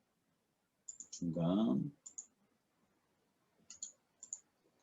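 Computer mouse clicks sound as sharp, faint, close ticks in small pairs and clusters across a quiet room, with a short spoken word midway through.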